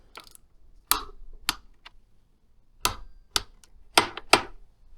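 Torque wrench ratcheting in short clicking bursts while tightening the foot peg bolts on a Stark Varg Gen 2 electric motorcycle, close and crisp with quiet gaps between pulls.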